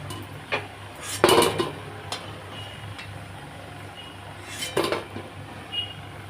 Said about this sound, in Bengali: সিঙ্গারাগুলো ভাজা হয়ে গেছে, এবার আমি তুলে নিচ্ছি।